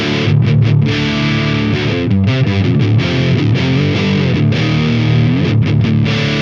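A distorted electric guitar plays chugging riffs and sustained chords through a modeled Mark-style amp with a scooped EQ, loud and continuous, alone without talk.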